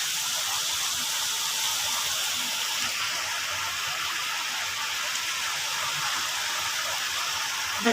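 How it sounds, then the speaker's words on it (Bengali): Heavy rain pours onto a neighbouring rooftop, a loud continuous rushing wash that holds steady throughout. "প্রচুর বৃষ্টি হচ্ছে।"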